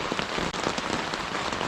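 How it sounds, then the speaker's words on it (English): Steady rain falling outdoors, a dense close hiss of drops pattering on surfaces that continues without a break and with no voices. "it's raining pretty good now, as you can hear"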